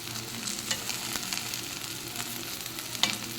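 A tempering sizzles and fries in a pan as lentil powder is stirred in, a steady crackling hiss broken by scraping stir strokes, close by and without talk.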